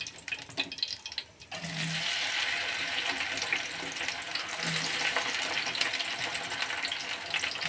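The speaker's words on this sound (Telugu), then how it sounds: "బెండకాయ ముక్కలు వేసుకుందాం." Okra pieces drop into hot oil and break into a loud, steady frying hiss that fills the rest of the clip, with a few soft clinks of a utensil against the pan.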